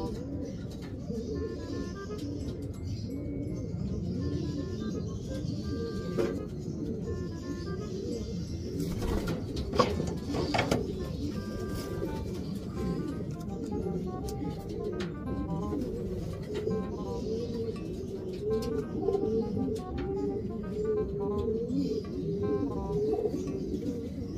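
Racing pigeons coo continuously in a loft as the last bird arrives home, soft overlapping burbling calls with occasional wing flutters and a brief spoken voice.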